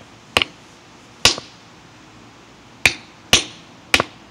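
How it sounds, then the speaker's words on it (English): A rock hammer strikes geodes in five sharp, ringing cracks with irregular gaps between them, close and loud against a quiet background. "So what we're going to be doing is cracking these open"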